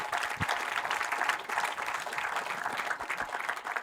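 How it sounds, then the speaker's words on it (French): Audience clapping at a panel discussion on urban development, a sustained patter of many hands at even volume throughout, with a few closer, louder claps standing out. "vous pouvez l'applaudir aussi."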